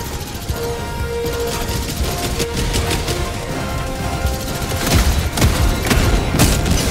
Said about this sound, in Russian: Не выстрел, а из пушки шмальнули.